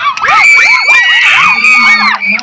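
A cheering squad of children at a school sports day shouts and whoops together in loud, continuous, high-pitched chants, close and energetic.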